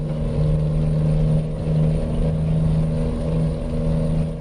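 A heavy truck hauling a 100-tonne road train in American Truck Simulator pulls with a steady droning engine hum that rises slightly, loud and continuous without any speech.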